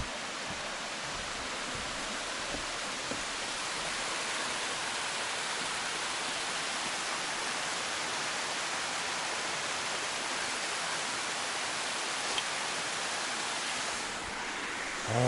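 Winton Canyon Creek rushes beneath a bridge in a steady, loud, broadband roar of flowing water that holds constant throughout, with no talking.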